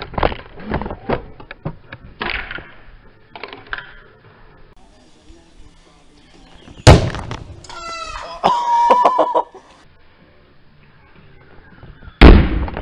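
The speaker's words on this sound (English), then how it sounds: "we're gonna blow up the empty spray cans we have" Empty spray cans blowing up, heard as a few sharp, loud bangs spaced several seconds apart, mixed with louder hissing bursts and some scattered knocks and background noise.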